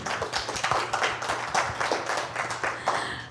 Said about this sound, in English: we're going to round it up and give another round of applause